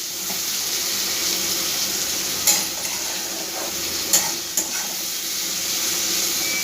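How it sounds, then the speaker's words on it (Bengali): Onions fry in a pan for a Bengali egg bharta, a loud, steady close sizzle throughout, broken by a few soft knocks of stirring. "খুব ভালো করে আমি পেঁয়াজটা একটু ভেজে নেব"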